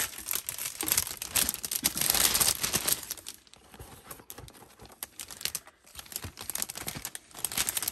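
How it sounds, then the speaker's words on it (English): Plastic bag being handled up close while packing mail, crisp crinkling and rustling in irregular bursts, loudest in the first few seconds and then quieter, choppier handling. "I need to get a plastic bag real quick."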